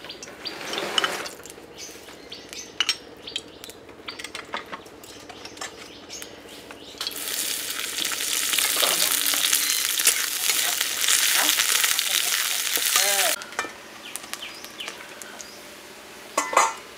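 Sliced onions fry in white oil in a kadai. A quieter crackle with scattered taps gives way midway to a loud, dense, hissing sizzle, then settles back down.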